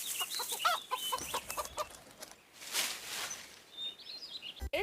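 Hens on a farm clucking and calling, several short clucks in a loose rhythm followed by a longer squawk, fairly close, with no talk.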